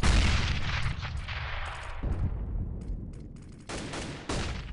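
Gunfire in a competitive shooter match, a string of close, sharp shots and short bursts with echoing tails over steady game noise.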